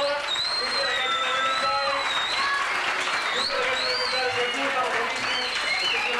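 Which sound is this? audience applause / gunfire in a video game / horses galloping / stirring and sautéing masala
audience applause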